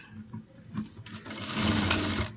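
A sewing machine runs a fast stitching burst through kurta cloth, near and loud, starting with a few short bursts and building into one continuous whirring run.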